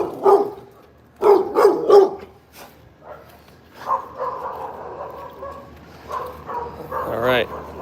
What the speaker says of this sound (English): There's this big ass aggressive dog over here.